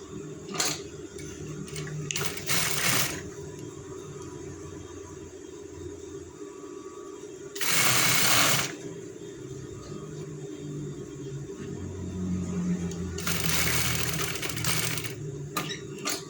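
A sewing machine runs in steady close bursts while stitching a replacement zipper onto trousers, with a sustained hum broken by short pauses between stitching runs.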